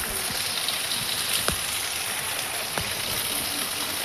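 Heavy rain falls in a steady, dense hiss, with a few sharp drips and taps standing out from the constant wash of water.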